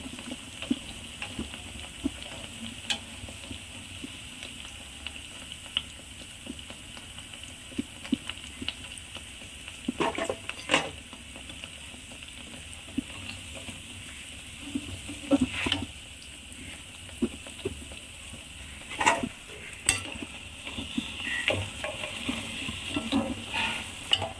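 Motichoor boondi batter fries in hot oil with a steady, close sizzle and bubbling, broken by occasional louder splashes and stirring clinks as more batter goes in.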